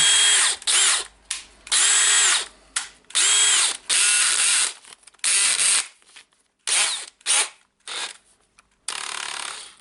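A Dewalt DCD709 cordless drill, just reassembled after its switch was cleaned, whirs in repeated short bursts of a few seconds each, starting and stopping with brief pauses between runs, loud and close with no talk.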